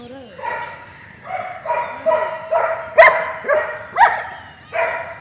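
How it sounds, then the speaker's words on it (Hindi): German shepherd dogs at a farm in Lahore bark repeatedly at close range, about nine loud, evenly spaced barks over a few seconds. "ये देखें कई किस्म के इन्होंने डॉग्स रखे हुए हैं, ये जर्मन शेफर्ड्स हैं"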